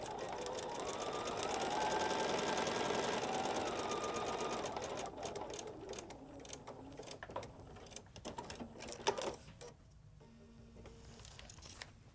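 A sewing machine stitches foundation paper piecing, a steady close whirring run that breaks into short stop-start bursts before going quiet.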